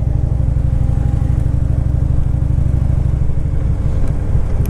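A Harley-Davidson motorcycle with about 100,000 miles on it idles nearby, its V-twin thumping in a steady, loping rhythm, then briefly loosens into an uneven chug toward the end, alone without talk.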